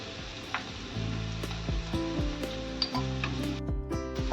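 Malvani masala tempering fries in a pan for matki bhaji, giving a steady close sizzle with light stirring clinks layered over it. Nobody speaks.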